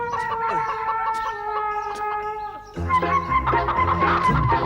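Hen clucking and squawking as it is chased around, a close series of sharp agitated clucks followed by louder flustered cackling and flapping commotion.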